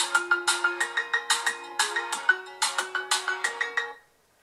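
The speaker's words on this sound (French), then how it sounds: "La sonnerie de mon cellulaire." A cellphone ringtone plays a bright, bouncy synth melody with rapid repeated plucked notes, loud and clear for about four seconds before cutting off.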